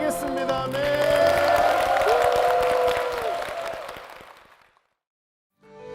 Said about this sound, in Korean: 주님께 영광의 박수를 드리겠습니다